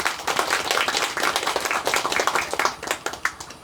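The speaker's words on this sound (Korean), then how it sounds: "곽영호 부군수님께 다시 한번 큰 박수 부탁드립니다" A crowd applauds the deputy county head at a cultural heritage event in Jangseong, with close, dense clapping sustained for several seconds before thinning out near the end.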